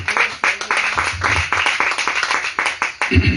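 Church congregation applauding together in rhythmic, loud clapping at a steady beat, close and full, with a voice briefly speaking over it near the end.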